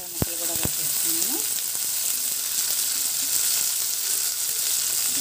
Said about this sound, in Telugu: ఒక 5 నిమిషాలు హై ఫ్లేమ్లోనే వేయించుకోవాలండి.